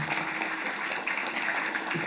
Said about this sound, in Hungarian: Kösz a tapsot!